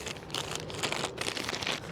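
Plastic packaging crinkles and rustles in short bursts as gloves are pulled out of it, close by and fairly quiet.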